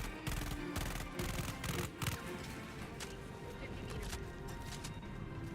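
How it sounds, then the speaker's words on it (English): Bursts of rapid automatic gunfire in a Helldivers shooter video game, crackling in quick clusters at the start and then thinning into a steadier rattle, mixed with the game's ambient sound. "There's a lot of gunfire going on over there."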